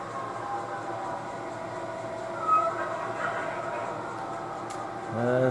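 A freight train couples up to its caboose on a curve during local switching at Farnhamville: a low rumble with metallic squeals and clanks, ending in a sharper coupling bump near the end, fairly quiet and distant.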